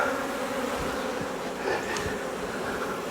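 Honey bees buzzing densely around an open hive while colonies are combined for winter and frames are pulled, a steady close hum with individual bees droning past, no voices.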